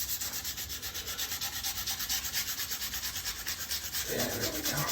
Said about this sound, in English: I'm gonna go ahead and sand it now though before it gets any worse.